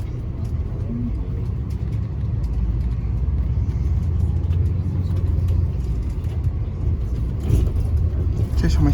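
A Rutgers campus bus drives along with a continuous low engine rumble and road noise from inside the cabin, steady throughout, with faint voices underneath.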